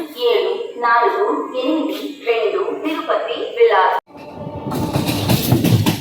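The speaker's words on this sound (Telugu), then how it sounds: "మన సామలకోట నుంచి అయితే స్టార్ట్ అయిపోయింది మన ట్రైన్" Someone talks for several seconds, then the Tirupati–Bilaspur Express train's rumbling, rattling noise on the rails takes over, loud and close, after leaving Samalkot.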